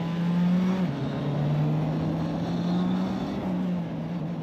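A GB4 race car accelerates away from the start at Donington Park, giving a steady loud engine drone with one brief dip in pitch as it shifts, then rising again.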